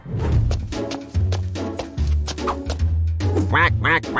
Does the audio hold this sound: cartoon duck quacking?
yes